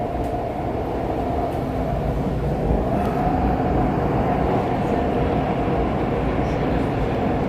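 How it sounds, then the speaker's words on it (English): A Montreal REM light rail train runs along, heard from on board as a loud, continuous rolling rumble and hum with a constant wheel roar and no speech. "I saw you guys on the other end of the REM train I'm on right now."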